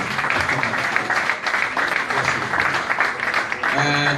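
Studio audience applause on the BBNaija show as Efe returns, dense clapping mixed with crowd noise and voices, loud and continuous with a brief dip midway.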